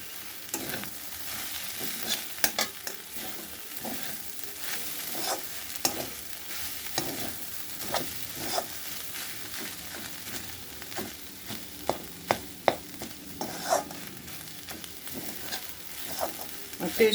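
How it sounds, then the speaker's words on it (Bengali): Vegetables and radish greens fry in a pan while a spatula stirs and pokes them, a continuous sizzle broken by frequent sharp scraping taps, close up and without talk. "এখন এই সবজিগুলো একটু ভালো করে মিশিয়ে নেব। এমনি খুন্তি দিয়ে খুঁচিয়ে এর সঙ্গে একদম মিক্স হয়ে যাবে।"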